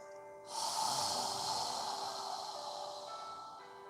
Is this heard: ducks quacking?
no